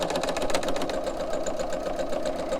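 A sewing machine stitches a pillow slipcover, a steady close mechanical whir with rapid rhythmic needle clatter running continuously without pause.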